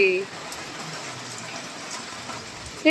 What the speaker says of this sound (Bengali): ভালোই জোরে বৃষ্টিটা নেমেছে দেখো